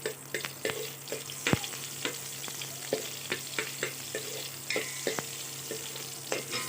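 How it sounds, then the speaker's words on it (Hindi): Ingredients for a traditional ridge gourd sabji fry in hot oil in a pan, giving a steady close sizzle broken by frequent sharp crackles and pops, with no talk. "गरम हो जाए तो फिर कुछ देर उसे तलिए तेल में।"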